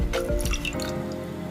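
Squeezed banana flower pieces drop into a bowl of fresh water with a few close splashes and drips, followed by a lingering trickle of water.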